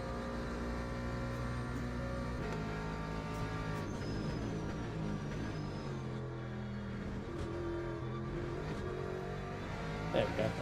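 Race car engine in the Le Mans Ultimate sim racing game, a steady loud drone of layered engine harmonics that rise and fall through shifts, with a brief high tone and no talk over it.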